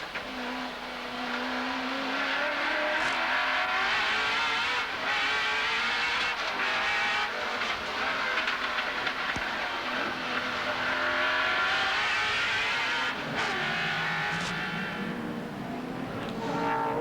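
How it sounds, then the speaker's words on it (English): A loud V8 Holden Commodore race car engine roars continuously at the 1991 Wellington Nissan Mobil 500, rising and falling in pitch as it revs through gears, with a faint tire squeal near the end. "let's listen to these lovely sounds from that V8"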